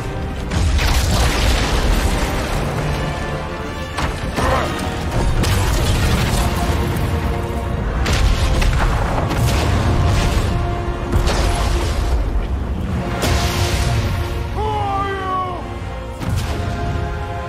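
A bomb exploding in the God of War Ragnarok game, with heavy booming blasts and grinding, creaking debris rolling through a loud, dense stretch of game sound, no talk.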